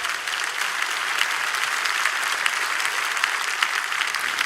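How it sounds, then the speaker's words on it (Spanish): Steady applause from a church congregation during a sermon, a dense patter of many hands clapping evenly for several seconds with no voices on top. "Le doy un aplauso a Jesucristo."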